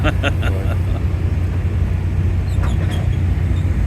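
A race car engine roars steadily and loudly at a nighttime race, a dense continuous growl with faint crowd noise beneath.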